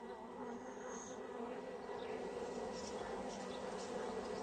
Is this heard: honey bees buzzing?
yes